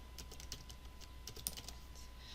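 Keys clatter on a computer keyboard in quick, uneven bursts of light taps, faint and close, with one sharper keystroke partway through.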